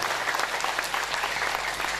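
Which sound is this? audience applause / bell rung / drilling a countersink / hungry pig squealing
audience applause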